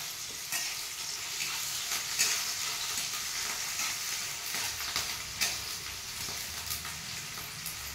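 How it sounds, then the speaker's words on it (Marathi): Onion and curry leaves frying in a pan, a steady soft sizzle with faint stirring clicks throughout, no voices. "मस्त असा कांदा छान परतून घ्यायचा"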